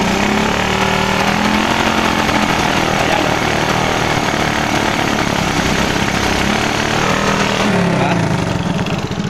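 A 110 motorcycle engine with its carburetor cover off runs loud and close, its rough running stuttering and uneven from misfires, with steady engine noise filling the whole stretch.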